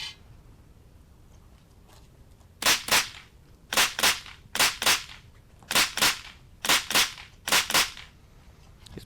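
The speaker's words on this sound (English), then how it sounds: "It's good shooting here from James." Mini rifle target shooting at a range: sharp gunshots fired in close pairs, about seven pairs at steady, deliberate spacing, loud and near, each crack with a quick echo, over quiet outdoor background with no talking.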